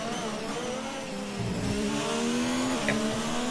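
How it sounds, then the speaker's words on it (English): A race car engine accelerates on the throttle with a steady, rising whine and a gear shift partway through, heard at moderate distance with no talk over it. "Back on the throttle, now head towards the line, giving it everything."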